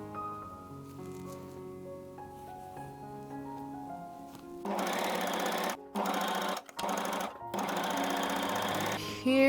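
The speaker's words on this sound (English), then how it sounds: "I'm just going to sew down the back seam, overlock around it, and then sew it into the neckline" Sewing machine stitching a leotard collar seam, a rapid buzzing rattle in three bursts separated by short pauses, following a quieter stretch of soft background tones.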